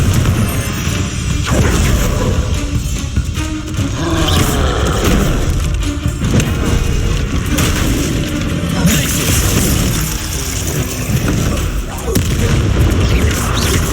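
Confringo blasting spell explosions in Hogwarts Legacy, loud booming blasts over a dense, continuous game soundscape of crashes and effects.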